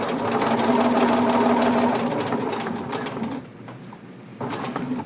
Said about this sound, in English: I'm just going to sew diagonally